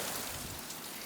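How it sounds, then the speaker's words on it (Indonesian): Heavy rain pouring down outdoors, a dense, steady hiss of downpour that holds constant and fairly loud throughout, with no voices over it. "Sekarang lagi hujan gede banget di luar nih, lo bisa dengar"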